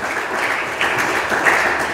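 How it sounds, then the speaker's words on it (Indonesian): Enthusiastic applause from a church congregation during a sermon, a dense burst of clapping that swells in short surges. "Yang setuju sekali lagi kasih tepuk tangan yang meriah untuk Tuhan."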